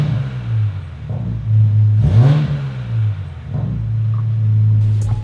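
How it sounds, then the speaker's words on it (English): MK5 Toyota Supra engine on its stock intake, a steady low idle rumble with one sharp rev that rises and falls quickly near the middle, then settles back to a steady drone. "This is what the stock intake sounds like."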